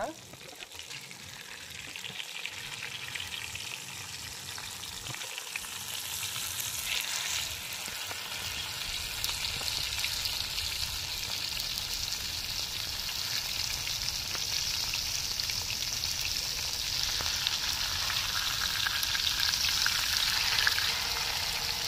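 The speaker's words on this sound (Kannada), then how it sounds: "ಲೈಟ್ ಫ್ರೈ ಆತಂಡು ಮೀನನ್ನು ತಿರ್ಗದ ಪಾಡ್ನಾಗ ಒಂತ ಜಾಗೃತೆ ಇಡ್ ಪಾಡುದು" Croaker fish coated in masala sizzles steadily in a pan over a low flame, a continuous soft crackling frying sound that grows slightly louder over time.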